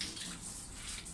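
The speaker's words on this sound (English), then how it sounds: "I'm going to just wash my hands." Water runs steadily from a tap as hands are washed under it, a continuous close splashing hiss lasting about a second during fermented-vegetable preparation in a kitchen.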